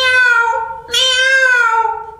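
A performer imitates a cat with two meows in quick succession: a sustained first cry, a brief break, then a brighter, longer second meow that slowly fades. It is close, loud and unaccompanied.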